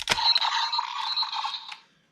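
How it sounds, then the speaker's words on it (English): A Power Rangers Dino Charge Morpher toy struggles to read its charger pins, giving a close, scratchy electronic buzz with a click at the start that runs for about two seconds before cutting off. "That's the sound of Morpher struggling to read pins."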